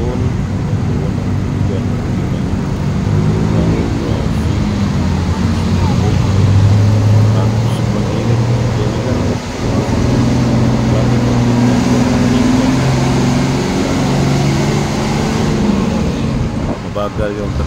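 Cars crowd a bridge in Mandawi City, making a loud, continuous roar of traffic with engine drone and tire rumble that swells and eases slightly as vehicles pass close by.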